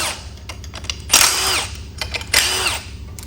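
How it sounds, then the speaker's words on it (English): A power grinder works metal during a Land Rover swap from a four-cylinder to an eight-cylinder engine, with two loud bursts of high whining abrasion and spin-down, separated by lighter clatter. "I grind that off."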